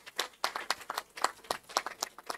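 Sparse, quiet applause from a small audience on a talk show, a handful of distinct hand claps in an uneven rhythm rather than a full crowd roar.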